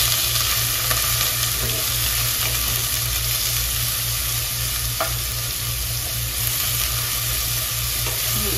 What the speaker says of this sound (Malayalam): ചെറിയുള്ളി ചതച്ചത് നമുക്ക് ഇട്ട് കൊടുക്കാം.